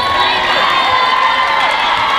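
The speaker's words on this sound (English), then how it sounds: "how about a round of applause for our Kamari?" Loud crowd cheering, whooping and clapping at a Tahitian solo dance contest, a dense continuous roar with shrill voices and children shouting mixed in.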